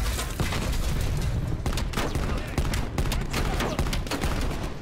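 Call of Duty Black Ops Cold War campaign combat on realism difficulty in the mission Desperate Measures: sustained gunfire with many sharp shots and bursts cracking in rapid succession, loud and near.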